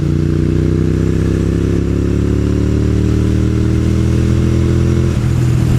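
A Suzuki SV650 motorcycle accelerates in third gear at about 50 mph, its engine a loud, steady droning roar that climbs in pitch before a brief dip near the end.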